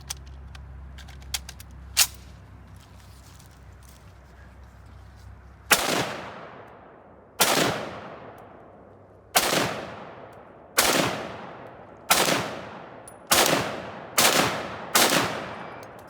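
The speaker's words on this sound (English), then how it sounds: "now I will have Noah fire the gun for you" A Browning-designed 1911 pistol fires several sharp, loud shots, a couple spaced early on, then a steady run of seven more about a second or two apart, each ringing off briefly.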